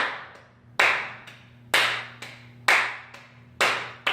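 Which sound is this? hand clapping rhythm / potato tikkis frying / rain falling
hand clapping rhythm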